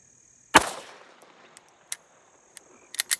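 A GSG Firefly pistol fires a single supersonic round in low light, one sharp close report followed by a decaying echo, then a few faint clicks and small knocks afterward.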